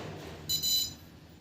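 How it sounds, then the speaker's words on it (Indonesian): Buzzer on an ultrasonic distance sensor setup sounds a short, shrill electronic tone, roughly two quick high beeps in close succession, near and fairly loud over a faint background murmur. "akan ada bunyi buzzer yang berbunyi secara berulang"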